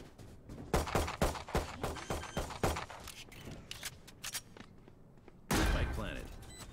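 Rapid bursts of rifle fire from a Valorant match, a quick string of sharp shots followed by scattered single shots and a loud final blast, with a voice talking over the action.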